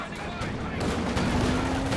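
Rifle shots ring out in a Company of Heroes 2 battle, a string of sharp cracks over a dense, continuous layer of wartime game noise with a faint sustained tone.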